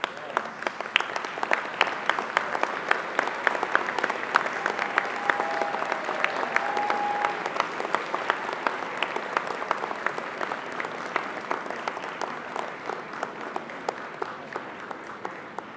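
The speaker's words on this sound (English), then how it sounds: "applaud your family and friends" Graduates at an ArtCenter graduation ceremony applaud their families and friends, a dense, sustained round of clapping from a large group that carries on steadily for the whole stretch.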